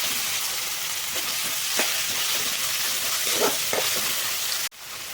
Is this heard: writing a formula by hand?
no